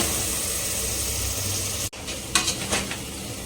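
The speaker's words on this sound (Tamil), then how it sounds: "இந்த பச்சை வாசனை போகிற அளவுக்கு வந்து பார்த்தீங்கன்னா வதக்கிக்கலாம்" Ground onion paste sautéing for mutton biryani made with small onions, a continuous close sizzle in the pan, broken by a brief pause and then a few stirring scrapes.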